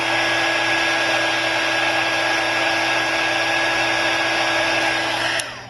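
A heat gun blows hot air to heat the glass of a cracked iPhone 5C or 5S screen during repair, giving a loud, steady whirring hiss that holds unchanged and stops abruptly near the end.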